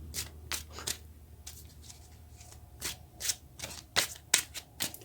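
Tarot cards are shuffled by hand in a string of crisp riffles and flicks, close and fairly quiet, with no talking.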